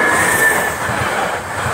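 A Y commuter train passes through a station, loud and close: a steady rumbling roar of rail cars with high-pitched wheel squeal running throughout, with no voices.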